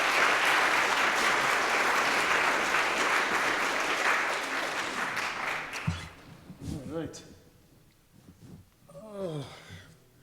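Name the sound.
audience applause at a coffeehouse concert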